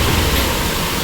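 Pressure washer nozzle blasting a steady spray of water onto a Honda Activa 6G scooter, a loud, continuous broadband hiss with no talk over it.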